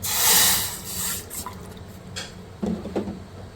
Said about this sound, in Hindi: इसके अंदर हम 2 कप पानी डालेंगे।